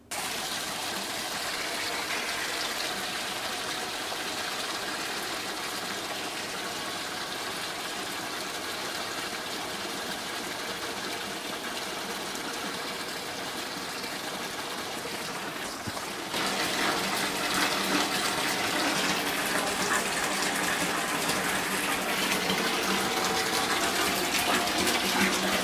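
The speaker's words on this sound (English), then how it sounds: "Let's get the tub filled up and we'll be ready to go." Bathtub filling from a tap, a steady broadband rush of running water that holds constant, then grows louder and fuller partway through as the flow strengthens, with no talking.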